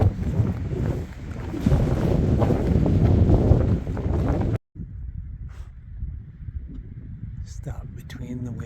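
Wind rushes and buffets the microphone during a road walk on a solo thru-hike of the Continental Divide Trail, loud and broadband for the first half, then dropping briefly before a steadier, lower rumble with faint scattered sounds.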